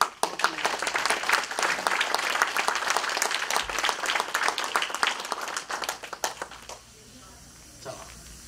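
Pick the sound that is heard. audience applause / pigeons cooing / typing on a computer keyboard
audience applause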